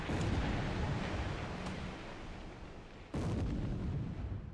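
Naval guns boom in a WWII naval battle game set in December 1941, a dense roaring barrage sustained throughout with a sharp fresh blast near the end, loud and without speech.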